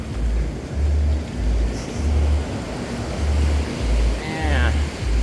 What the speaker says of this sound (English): That's some beautiful, nice rolling glass waves out there.